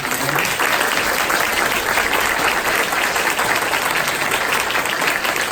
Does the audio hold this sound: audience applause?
yes